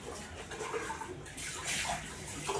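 Water running and splashing in a home sink or basin while washing and changing the water, a steady hiss that surges louder partway through and keeps flowing, close and fairly quiet.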